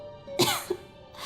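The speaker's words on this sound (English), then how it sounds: "How long have you had that cough, Tonya?" A single short, raspy cough sounds close by, followed by a smaller second cough, over a quiet background hum, in the video game Genshin Impact.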